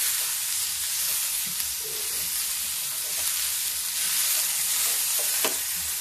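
Shredded cabbage fries in a pan to soften, giving a continuous close sizzle and crackle with scattered pops and stirring scrapes, and no one talks over it.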